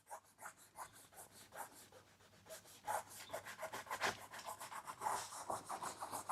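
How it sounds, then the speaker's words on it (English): An eraser rubs pencil lines off watercolor paper in rapid back-and-forth strokes, a close, soft, dry scratching that stays steady in rhythm throughout, with no talking. "I want to erase the pencil lines now."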